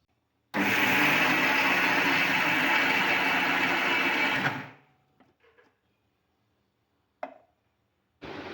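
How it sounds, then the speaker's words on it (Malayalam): Mixer grinder grinding soaked rice with water into batter, a loud steady whirring for about four seconds that then winds down, followed by quiet with a few faint clicks and a short knock. "അരി നന്നായിട്ട് വെള്ളമൊക്കെ ഒഴിച്ചിട്ട് മിക്സിയിൽ അരച്ചെടുത്തിട്ടുണ്ട്"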